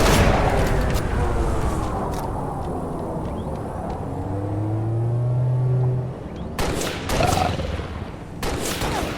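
Video game shotgun fire, several heavy blasts in quick succession followed by more shots later, loud and close with a booming tail and no talk.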